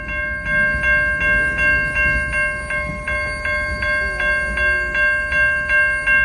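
An end-of-train device on a freight train at night gives off a steady run of sharp, high-pitched electronic beeps at a quick even rhythm, layered over the low rolling rumble and clatter of passing rail cars.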